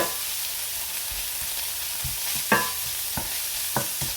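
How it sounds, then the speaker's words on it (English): Tuna heats over medium heat in a pan, a steady soft sizzle broken by several close knocks and scrapes as a utensil stirs and breaks the fish into smaller pieces. "Get some heat through that tuna and make it into smaller pieces"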